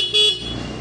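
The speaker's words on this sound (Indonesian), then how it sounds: "klakson menyala" A Honda Genio scooter with a starting fault gives one short horn beep, a bright brief tone lasting a fraction of a second, followed by quiet electrical hum.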